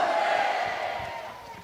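A rally crowd at a Korean national assembly shouting a drawn-out "manse" hurrah chant in unison, a sustained distant roar that slowly fades over under two seconds.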